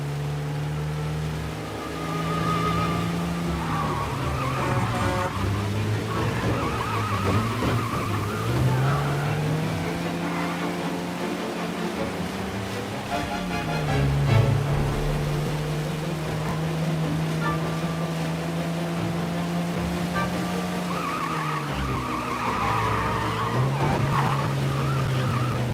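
A car in a chase in the video game Mafia Definitive roars along with a steady, loud engine drone and rising and falling revs, with tire squeal and skidding mixed in throughout.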